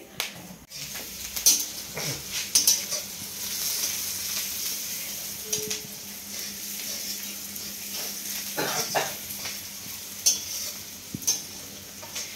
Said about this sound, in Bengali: এই যে সৌম্যজিৎ কি সুন্দর তরকারি নাড়া দিচ্ছে